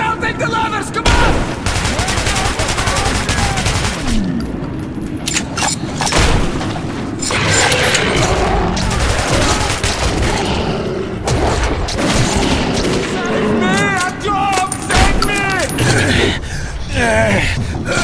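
Gunfire and booming explosions fill a hectic fight in Metro 2033 Redux, with loud bursts and shots stacking over each other, while voices shout over the din throughout.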